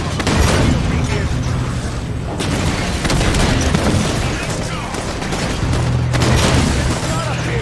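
Dense, rapid gunfire and explosive bursts from a battle in the video game Halo 5: Guardians, played on Xbox Series X. It rolls on almost without pause and stays loud throughout, with voices shouting over the fighting.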